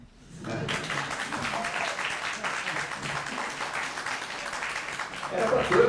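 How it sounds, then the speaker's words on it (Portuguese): Sustained applause from a crowd at a university rector candidates' debate at UFBA, steady clapping that swells slightly toward the end. "Palmas."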